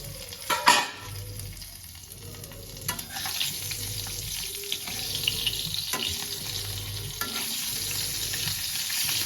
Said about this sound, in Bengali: এই ভাজা বসিয়েছি